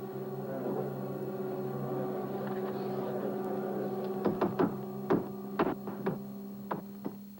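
Sharp knocks tapped out in Morse code come from inside a vault in the TV series Circus Boy, arriving as irregular short raps over a steady low electrical hum, fairly close.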